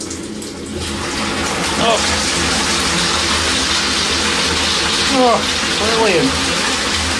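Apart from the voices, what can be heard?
toilet flushing in a combination toilet washing basin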